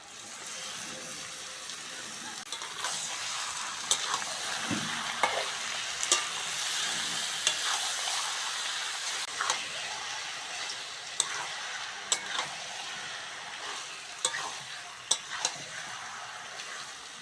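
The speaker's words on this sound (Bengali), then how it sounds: "পেঁয়াজের সঙ্গে আলুটা ভালো করে ভেজে নিয়েছি এবার ছাট মাংসটা দিয়ে দেবো" Potatoes and onion frying with chicken mince in a pan, a dense continuous sizzle with sharp stirring clicks and scrapes at irregular intervals, close and fairly loud.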